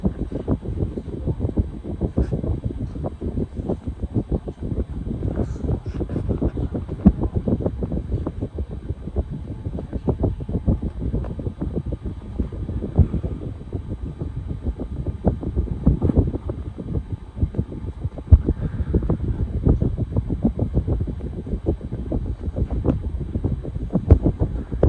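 A 60-inch Fanimation Prop ceiling fan pushes a steady, close-up rush of air that rumbles and buffets like wind on a microphone, loud and continuous with no talking.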